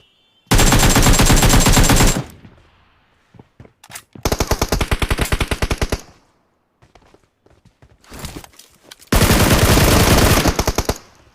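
Loud bursts of rapid automatic gunfire in PUBG at Pochinki, three long volleys separated by scattered single shots and quieter gaps.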